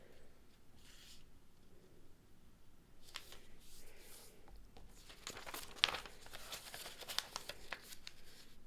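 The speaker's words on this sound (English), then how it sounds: "the first thing we're going to do is fold our paper side to side" Origami paper being folded side to side, giving soft crinkling and rustling with a few sharper creasing snaps, close and fairly quiet, with no speech.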